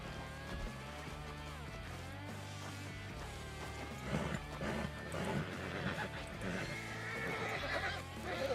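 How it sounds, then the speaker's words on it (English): A horse whinnies and snorts among hoof clip-clops in a video game, with busy background noise and rustling around it. "There's a horse down there."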